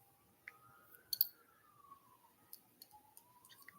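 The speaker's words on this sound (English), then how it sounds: "Can you hear the siren?" A faint, distant siren wails in slow rising and falling sweeps, with scattered clicks and light tinkling of wind chimes over a quiet background.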